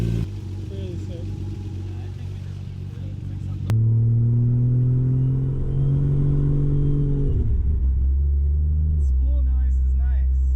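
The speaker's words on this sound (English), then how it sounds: "Spool noise is nice." A Toyota MK4 Supra A80 engine runs on boost, rumbling steadily before a sharp jump into a rising whine as the turbo spools up, then easing off and dropping back toward idle, with voices heard near the end.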